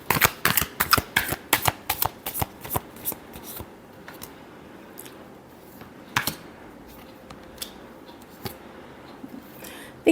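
A tarot deck is shuffled up close: a rapid series of crisp card riffles and slaps for the first few seconds, then scattered single taps and flicks with quiet gaps.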